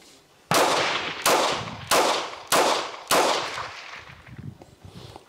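Five sharp, loud Walther P99 pistol shots fire in a steady sequence about half a second apart, each a sudden crack with a short echoing decay, then quiet background.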